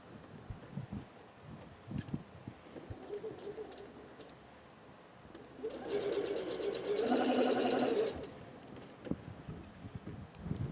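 A sewing machine top stitching a fabric face mask, running in a steady fast whir for a few seconds in the middle, framed by soft handling clicks and fabric rustle before and after.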